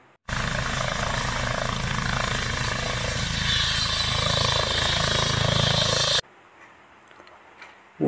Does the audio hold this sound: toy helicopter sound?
yes